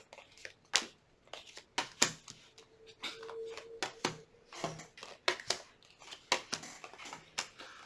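Tarot cards shuffled by hand in irregular bursts of crisp riffling and slapping, close and fairly quiet, with a faint tone briefly in the background.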